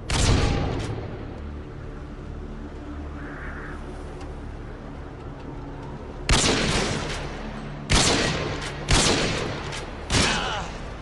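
Gunfire in the video game Rust: an opening shot, then a quiet stretch, followed by four loud, sharp reports spaced roughly a second apart, each with a booming tail, up close and without speech.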